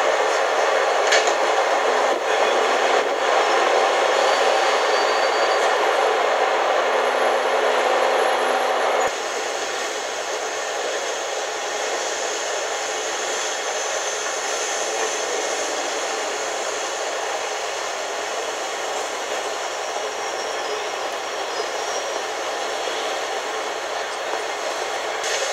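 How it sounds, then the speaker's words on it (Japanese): A streetcar (tram) rolls past on a city street in Toronto, Canada in 1997, a steady loud rumbling hiss of wheels and motor that drops slightly midway as it moves off, with no talking. "今走っていたのがストリートカーと呼ばれます"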